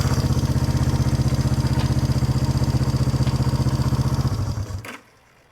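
A Honda CB350 motorcycle engine, said to have low compression, idles with a steady, close putter and clatter for several seconds, then sputters and cuts out into near silence.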